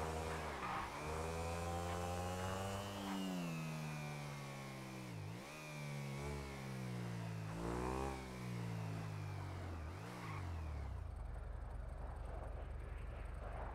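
A motorcycle engine revs repeatedly in a video game, a loud buzzing note that rises and drops in several swooping pulls as gears change, then settles into a lower steady rumble.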